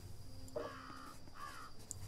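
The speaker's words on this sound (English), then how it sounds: "Hello, crow." A crow in the video game Havsala caws twice, two harsh calls close together against a quiet night ambience, with no talk.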